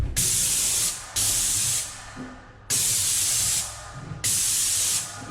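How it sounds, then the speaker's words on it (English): A paint spray gun hisses in four bursts of roughly a second each while spraying a staircase, separated by brief pauses, close and loud. "So this is pretty much how I spray it."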